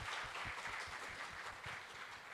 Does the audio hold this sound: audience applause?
yes